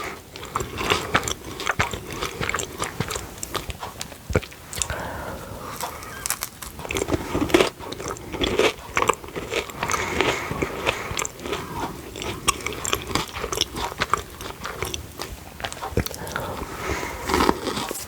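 Close, crunchy biting and chewing of assorted British biscuits, including chocolate and golden cream varieties, with repeated sharp crunches and steady mouth sounds running throughout.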